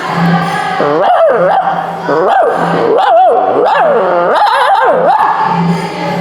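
A voice imitates street dogs, a run of yips, whines and howl-like barks rising and falling in quick succession, loud and close.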